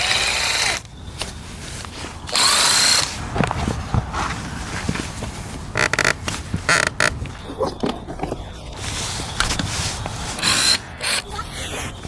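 A power driver whirs in short bursts while removing screws from a dirt bike left sitting for over five years, interleaved with clunks, handling noise and shuffling nearby.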